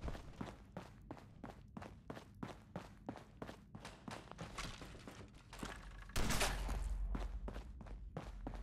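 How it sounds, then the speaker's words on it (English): Footsteps walk through a Fallout 4 game world, a steady run of soft thuds about two per second at a moderate distance, giving way near the end to a louder rushing noise. "Everything's starting to sound like footsteps these days."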